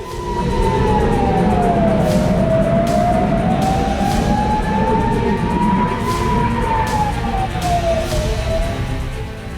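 An air-raid siren in northern Israel during a Hezbollah rocket attack wails in slow rising and falling sweeps, loud and steady throughout, over a rumbling background with occasional sharp bursts.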